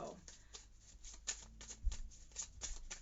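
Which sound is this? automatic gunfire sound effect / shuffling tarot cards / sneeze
shuffling tarot cards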